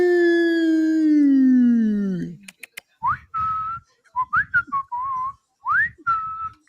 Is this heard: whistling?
yes